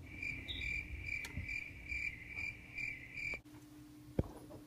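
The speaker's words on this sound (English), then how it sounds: "Look at this large supply of crickets." Crickets chirp in a steady, repeating high trill, fairly close and loud, over a low background hum, with a brief sharp knock near the end.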